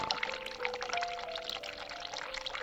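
Water pours steadily from a tap in the horror adventure game The Cat Lady, a continuous close splashing stream with no talk over it.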